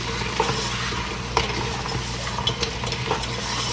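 Taro root and boiled meat fry in a pan with a steady close sizzle, light stirring scrapes and small clinks rising above it, no voices.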